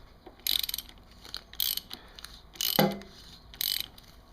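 A ratchet turning the suspension adjuster on a Kawasaki Ninja 1000 motorcycle gives four short bursts of clicking spaced about a second apart, fairly quiet, with one sharper knock as the tool strikes the tank.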